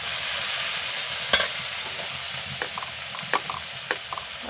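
Kashmiri chili powder sizzles in hot oil with tomatoes while a spoon scrapes and stirs through a Bengali shrimp and jackfruit curry, a constant fry hiss broken by several sharp, close stirring knocks.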